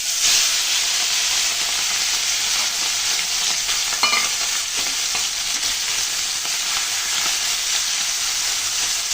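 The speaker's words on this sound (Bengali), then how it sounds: "এখন মাছগুলো আগে আমি ভেজে নিচ্ছি।" Kakchi fish frying in hot oil in a kadai: a steady, loud sizzling hiss runs throughout, with a few faint pops and no voices.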